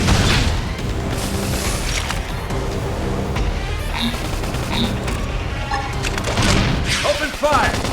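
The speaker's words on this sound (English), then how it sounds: "Flame grenade!" Flame grenade explosion in the video game Xenoblade Chronicles X, a heavy booming blast amid busy combat effects and clatter, loud and sustained with further impacts near the end.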